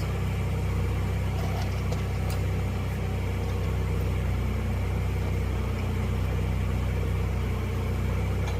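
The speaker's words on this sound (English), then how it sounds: "I apologize for the forklift running in the background" An old forklift engine runs steadily in the background, a continuous low idling rumble with a faint mechanical hum that holds at an even level throughout, with no voices.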